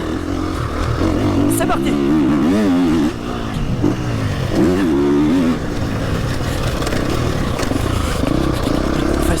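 A motocross bike fitted with an MX silencer revs hard on a test track, loud wavering engine pitch rising and falling through gear changes, with someone speaking briefly over it.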